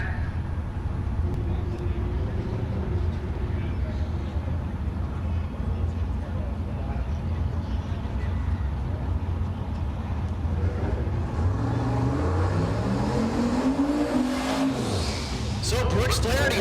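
Drag racing car making a pass down the dragstrip at an SRCA strip in Great Bend, Kansas, a steady engine roar rising in pitch near the end as the car accelerates, with a public-address announcer talking over it throughout.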